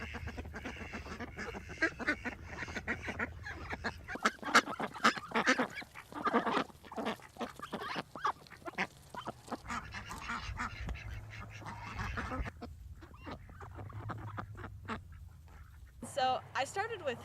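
Farm ducks quack and honk repeatedly through a noisy, busy soundscape, with people talking over the birds and louder bursts around the middle.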